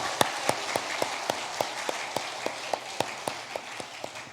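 A church congregation claps in steady unison during a worship service: about sixteen sharp, evenly spaced claps ring out over a roomy background, with no voices on top.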